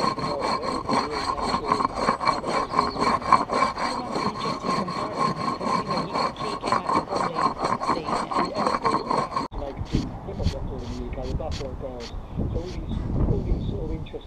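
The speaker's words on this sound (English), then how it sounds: "So I'm going to scrape it down with a brick and lacquer it" A brick is scraped back and forth over a concrete curb in steady, rhythmic rasping strokes, close and loud, while a person talks over it; partway through the strokes change to a rougher, more broken grinding.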